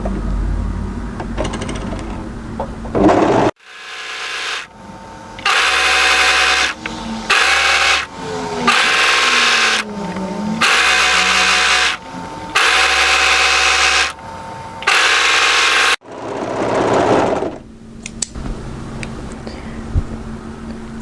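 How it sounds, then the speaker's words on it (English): An overlocker finishes the hem of a tie-front dress in a series of short loud close bursts separated by brief pauses, with quieter handling noise before and after. "I'm going to overlock and then plain stitch"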